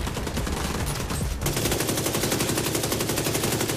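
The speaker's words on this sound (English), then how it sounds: "A little SMG doing some damage" A submachine gun fires in The Division 2 during an ambush firefight, a loud continuous rapid burst of gunfire with a sharper, denser rattle in the second half.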